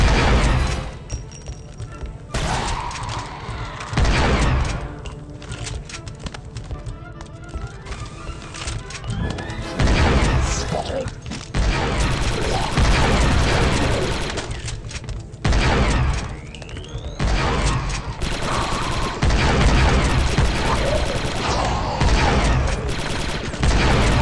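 Gunfire from the video game Republic Commando: dense, rapid blaster and rifle bursts crackle in loud clusters with booming impacts, interrupted by brief lulls. Someone talks over the action.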